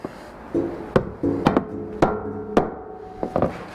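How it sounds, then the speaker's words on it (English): A mallet taps a plus nut down into a drilled hole while a roof rack goes onto a Lexus GX 470, giving about five or six sharp, hollow knocks at irregular intervals. Fainter rattles sound between the knocks. "So I'll just take a mallet"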